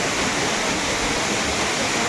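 Water pours down from above at Gundicha Ghati in a steady, loud, close rushing roar with no breaks.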